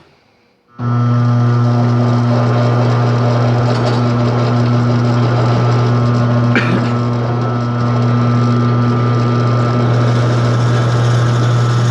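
A drill press motor starts up and runs with a steady, loud whine and hum while the bit works through a wooden dowel, with one brief scrape midway.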